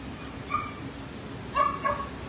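A dog in a shelter kennel gives a short whimpering yip, then a louder pair of whiny barks a second later, close and clear over quiet kennel background.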